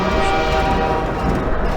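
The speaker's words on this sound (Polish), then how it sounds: "wiedziałem, że jest pociąg" A train in the video game Half-Life 2 rumbles loud and continuous, a dense rail roar with faint tonal whistle-like lines running through it, with no talking.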